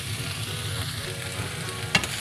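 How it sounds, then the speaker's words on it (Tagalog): Elbow macaroni stirred into sautéed shredded chicken and aromatics sizzling steadily in a pan, a continuous frying hiss with one sharp clink of a utensil near the end. "Now ilalagay ko na itong elbow macaroni."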